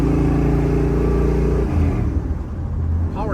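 Big-block 1963 Chevrolet Impala with a four-speed manual under way, a loud, steady low engine drone that drops in pitch and settles midway as the car cruises, with road rumble throughout.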